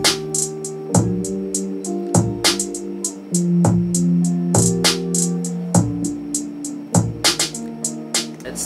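A simple hip-hop beat of kick, snare, hi-hats and claps with recorded guitar and piano plays alone at a steady tempo, with repeating chords and crisp percussion.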